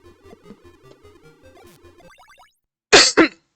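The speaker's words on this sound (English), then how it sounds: "Sorry about coughing into the mic there" Two sharp, loud coughs blast close into a microphone, following a stretch of quiet chiptune game music from the shoot-'em-up Zanac EX.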